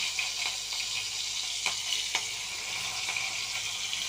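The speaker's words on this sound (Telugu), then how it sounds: "ఇది ఎగ్గు బాయిల్ చేసిన ఆయిల్ని ఇప్పుడు 4 పచ్చిమిర్చి వేసుకున్నామండి" Four green chilies frying in hot oil previously used for boiling eggs, a steady low sizzle with a few sharper pops and crackles scattered through it.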